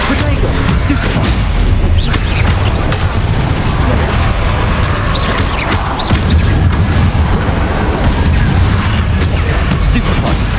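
Loud, constant barrage of booming magical blasts and crashes from Bombarda and other attack spells in the video game Hogwarts Legacy, dense and unbroken across the whole stretch with a steady low rumble.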